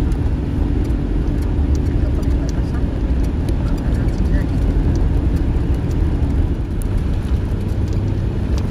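Traffic jam on a long stretch of road heard from inside a vehicle, a dense, steady rumble of idling and creeping engines with constant low road noise and no clear pauses.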